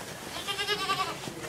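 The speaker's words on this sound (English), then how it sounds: "Look at those little goats." Small young goats bleating close by on a Pennsylvania Dutch farm, a run of wavering, overlapping cries lasting a second or so at moderate loudness, with no talk over them.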